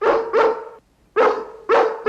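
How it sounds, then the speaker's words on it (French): Cartoon dogs from the 101 Dalmatians series barking loudly and near, four sharp barks in two quick pairs separated by a short silence, with no talking. "Ok, maintenant essayez de faire des aboiements crédibles."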